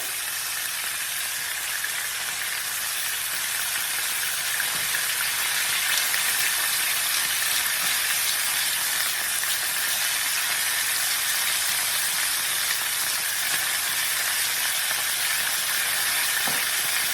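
Chicken pieces sizzling loudly in a hot pan while cooking chicken Vesuvio, a steady, dense crackle and hiss that runs unbroken throughout, close and strong with no voice.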